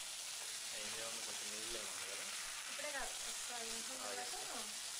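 Chicken curry with chili powder sizzles steadily in a pan, a constant bright frying hiss that fills the whole stretch, while a voice speaks over it.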